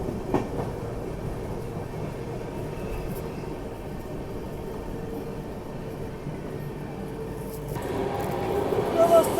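Purushottam Express passenger train runs on its rails with a continuous low rumble and faint rhythmic clatter heard from inside, swelling slightly louder near the end.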